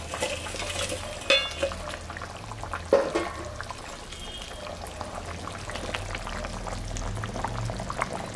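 Rui fish simmers in mustard paste with green chillies, giving soft, continuous bubbling under a low hum, broken by a couple of sharp utensil clinks early on.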